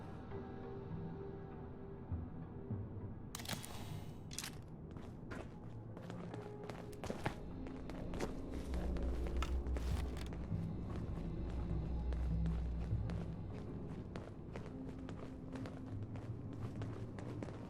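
Overseer's footsteps in Fallout 76, a run of quick, soft steps in steady rhythm under game ambience, with a low rumbling stretch midway and a few sharper thumps.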